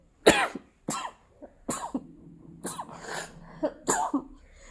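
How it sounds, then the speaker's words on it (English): A string of explosive bursts from one person, several sharp sneezes in a row, close and fairly loud, with short breaths between them. "I had to sneeze"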